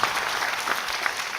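Applause from an audience at a talk on the First Amendment on college campuses, a dense steady patter of many hands at moderate volume with no voices on top.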